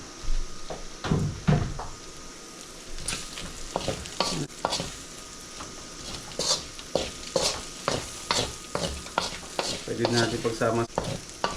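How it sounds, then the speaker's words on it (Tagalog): Garlic and onion sautéing in a pan for ginataang kalabasa at sitaw with pork, with steady sizzling, stirring and utensil scrapes, a few clattering knocks and a brief spoken phrase over the cooking. "kapag medyo dark na rin o brown na rin yung ating garlic, so lagyan na natin yung onion"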